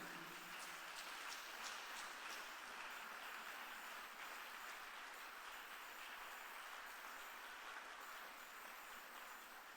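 A church congregation applauding, a steady even wash of clapping that holds at a moderate distance for several seconds without pause.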